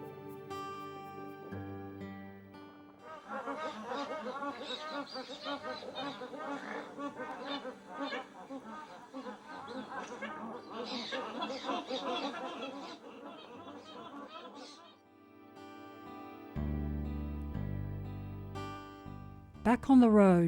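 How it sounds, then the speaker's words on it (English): Brolgas at a wetland give repeated loud, trumpeting honks and rattling calls in overlapping bursts, some nearer and some farther, with a quieter pause before more calls. "Our first Brolgas of the trip"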